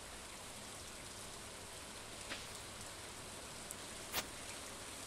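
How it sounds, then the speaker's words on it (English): Steady rain in the farming video game Stardew Valley, a soft even hiss of falling drops throughout with no talk over it, broken only by a couple of faint brief clicks. "Oh, it's raining."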